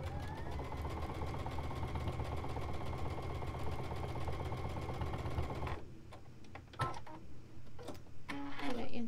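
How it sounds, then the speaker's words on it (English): A sewing machine runs steadily along a quilt block seam with a fast, even mechanical whir for several seconds, then stops, followed by faint clicks and handling noises and a nearby voice. "So I'm going to sew that along the bottom side."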